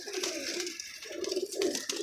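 Pigeons in a loft give soft, rolling coos that repeat in short low phrases close by, with faint voices in the background.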